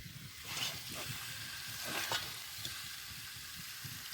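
Chicken meat sautéing in hot oil, sizzling steadily throughout with a couple of louder bursts and faint stirring scrapes in the pan.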